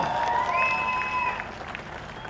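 Studio audience applause for television serial actors, a short dense burst of clapping with a sustained tonal music note over it, fading slightly toward the end.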